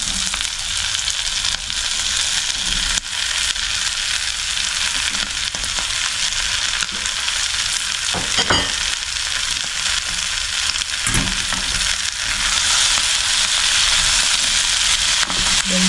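Papaya pieces frying in a pan, a loud dense sizzle that carries on throughout with a couple of brief stirring knocks, no talking.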